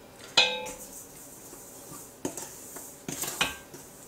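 A utensil stirring a dry mix of yeast, salt and flour in a bowl for hamburger buns, heard as a few distinct clinks and scrapes against the bowl with quiet gaps between them.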